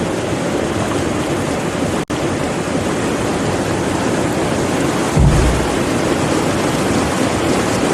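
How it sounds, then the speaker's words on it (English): A waterfall with a heavy flow of water roars steadily and loudly, a dense, unbroken rush that fills the whole clip. "we're approaching the waterfall, and as promised, there is a lot of water coming down"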